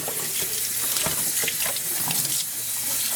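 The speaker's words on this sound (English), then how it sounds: "So just rinse until these pieces are out." Cherry pieces rinsed under a running kitchen tap, a steady close splash and gurgle of water into a sink with small shifting spatters, no talking.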